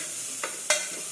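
Onion, garlic and ginger cooking in a little oil for butternut soup, with a soft steady sizzle and two brief stirring scrapes, the second louder.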